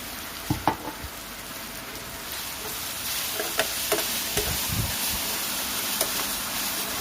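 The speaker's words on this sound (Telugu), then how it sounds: "ఇది కూడా పచ్చివాసన పోయేంత వరకు బాగా నూనెలో వేయించుకోవాలి" Salted tomato pulp fries in hot oil for an egg masala curry, a steady close sizzle broken by sharp spoon clinks and stirring scrapes against the pan.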